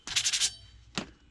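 Emery cloth scrubs old solder off a copper pipe in a few quick back-and-forth strokes, close and fairly loud, then one more short rub after a brief pause.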